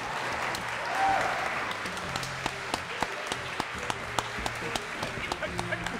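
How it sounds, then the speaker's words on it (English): An audience applauds after a debate on whether Jesus was Lord or legend. Steady crowd clapping swells near the start, then thins toward a few sharp, distinct claps over a low room murmur with faint voices. "Give these guys a round of applause."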